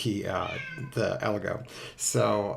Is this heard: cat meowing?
yes